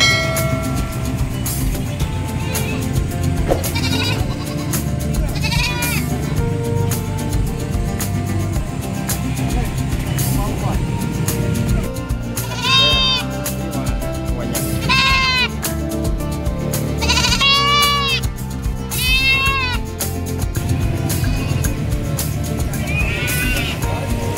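Goats bleating repeatedly at a livestock market in Malasiqui, Pangasinan, several animals calling near and far over a constant din of background chatter and crowd noise.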